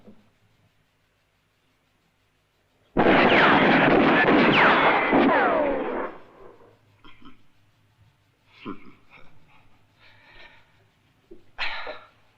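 A gunshot in a Western film bursts loud and sustained for about three seconds with a ringing tail, followed by quieter scuffs and a few softer sounds.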